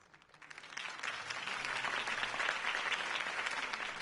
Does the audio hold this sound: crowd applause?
yes